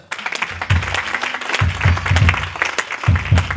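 A church congregation applauds in rhythmic bursts of clapping, close and lively, with a low drum-like beat pulsing underneath.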